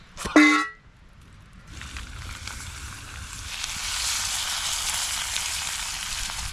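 After a brief honk-like tone at the start, sausages and eggs sizzle in a pan at a winter campsite, a soft steady crackle building gently and continuing to the end.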